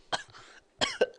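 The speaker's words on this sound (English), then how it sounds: "I think I got a kennel cough" Two sharp coughs, each a harsh burst followed by a short rasp, close and fairly loud with a brief pause between them.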